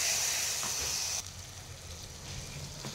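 Masala paste frying in oil for mutton biryani, a loud steady hiss at first that drops abruptly to a softer, continuing sizzle.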